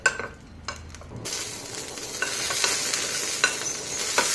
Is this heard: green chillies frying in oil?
yes